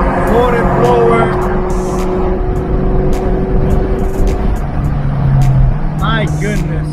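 A ported Eaton supercharged 2003 Cobra drives on the road, its engine droning loud and steady with whine-like tones shifting as it goes, while someone talks over it.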